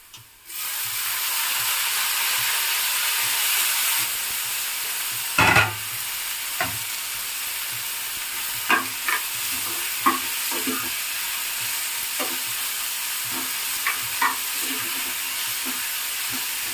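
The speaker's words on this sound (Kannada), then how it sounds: "ಚೆನ್ನಾಗಿ ಫ್ರೈ ಆಗಲಿ ಟೊಮೆಟೊ." Tomato sizzles steadily in hot oil in a pan, close and loud. Scattered clinks of a spoon and stirring taps sound against it, and no voices are heard.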